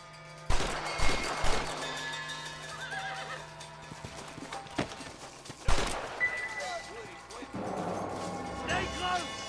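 Gunfire in the Red Dead Redemption video game: several loud, sharp shots in bursts, mixed with horse neighing and clip-clopping hooves while voices talk in between.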